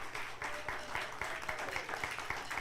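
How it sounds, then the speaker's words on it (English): A congregation claps for its prayer chaplains. The applause is moderate and somewhat distant, and individual claps are fairly evenly spaced. "So let's all give them a round of applause."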